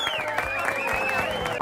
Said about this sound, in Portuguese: muitos aplausos para João Glória Júnior